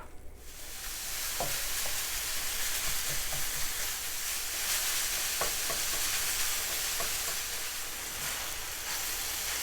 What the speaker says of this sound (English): I'm going to add all the breakfast sausage and brown it up